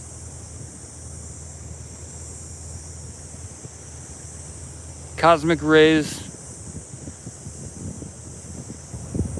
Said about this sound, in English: And of course there's the ocean, which is very rough.